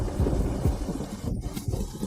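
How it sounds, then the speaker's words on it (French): Heavy pouring rain falls in a steady, dense wash of noise with low rumbling swells, continuous throughout with no voices. "Sous une telle pluie battante, pourquoi es-tu si bête?"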